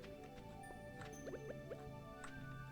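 Watering crops in the video game Stardew Valley: soft quick droplet and splash sounds, faint and brief, over quiet background game music.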